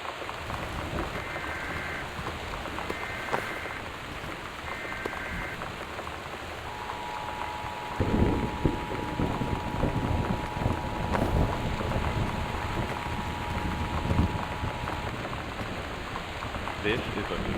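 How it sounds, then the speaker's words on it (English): Heavy rain and a windy storm in the video game Gone Home, a steady dense patter of rain with a low wind rumble lasting throughout, a faint tone briefly sounding over it. "The Northwest Weather Service reports high winds and torrential rain conditions"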